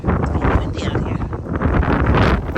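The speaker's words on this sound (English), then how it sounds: "windy out here." Gusty wind blows outdoors in a garden, buffeting the microphone with a loud, steady low rumble.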